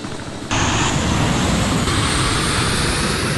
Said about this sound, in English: I'm going to go ahead and start the engines up